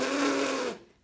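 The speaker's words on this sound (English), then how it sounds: "You put your lips together and you blow air through it like this." Lips pressed together and blown through make a buzz, a bright, raspy, steady tone lasting under a second before stopping abruptly, close and alone with no talking.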